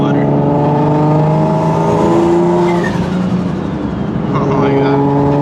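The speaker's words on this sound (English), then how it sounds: "Let's hear some turbo flutter." A revving turbocharged car engine running on E85 roars continuously with rising and falling pitch, a sharp fluttering chatter of the turbo as the throttle lifts, close and loud.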